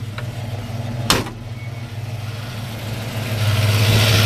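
A 1968 Chevrolet C10 pickup V8 with headers and Flowmaster exhaust idles with a steady, loud, deep burble. It is broken by a sharp clack and builds into a heavier rumble toward the end.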